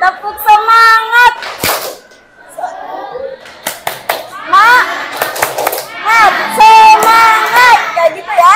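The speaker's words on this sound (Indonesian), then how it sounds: "Kita cukup melakukan tepuk semangat." Classroom group of children performing a tepuk semangat rhythmic clap chant, loud close claps in short patterned bursts mixed with young voices calling out.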